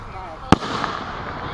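A single sharp firework bang bursts out once, loud and close, followed by a softer crackle and lingering hiss in an outdoor backyard display.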